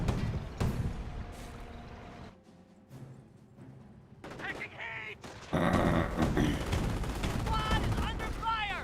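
Rattling rifle and machine-gun fire in a Company of Heroes 1 battle, bursts rising and falling with a loud, dense stretch in the second half, under a speaking voice.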